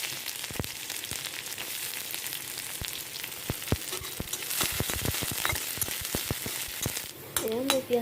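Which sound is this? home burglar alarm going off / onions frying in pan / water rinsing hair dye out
onions frying in pan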